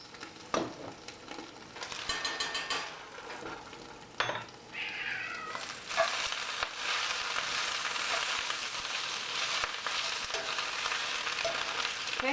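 Greens and garlic sizzle steadily in a covered pan, a continuous mid-loud hiss filling most of the stretch, with a cat meowing near the start and some clatter along the way.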